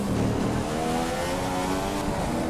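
Engine of a Formula 1 car in the F1 2015 video game, whining upward through the gears as it accelerates out of the tunnel, loud and continuous with rising harmonic pitch sweeps.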